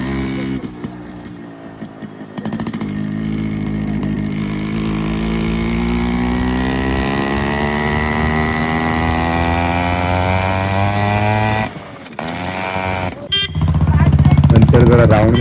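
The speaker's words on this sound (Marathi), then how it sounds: "आता गाडीचा जरा आवाज बघायला आलाय." A new motorcycle engine idles and revs close up, a steady harmonic drone with pitch swells and a brief cut near the end before rising louder.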